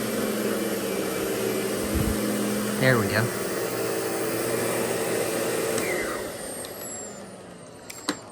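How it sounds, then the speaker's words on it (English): A Lindhaus Diamante 300 dual-motor vacuum cleaner with hose drones steadily at close range, with a brief spoken comment over it, before the motor sound drops away near the end. "when I want something with a hose or like a dual motor vacuum, I always reach for this"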